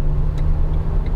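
A 2020 Renault Trafic L2H1 panel van with a 145 hp diesel engine pulls out of an acceleration lane, its steady low engine rumble and road noise droning close and loud throughout.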